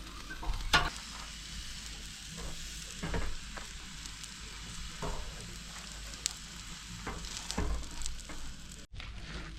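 A steak sizzles in a pan over a camp stove, a steady quiet frying hiss broken by short scraping and stirring clatters at irregular intervals, close up and without talking.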